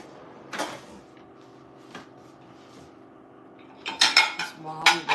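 Dishes and cutlery clink in a home kitchen, with a soft knock early, a lighter tap, then a busy cluster of sharp metallic clatters near the end, close by with no talking.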